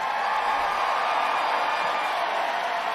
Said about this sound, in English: A cheer erupted with Ansley Almanor checking into the game.